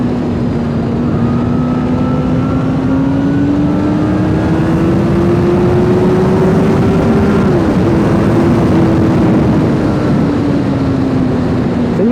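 A Honda CBR 1000 RR sportbike on its stock exhaust drones steadily and loudly up close, its engine pitch rising slowly, dipping briefly, then easing back down over a continuous rev.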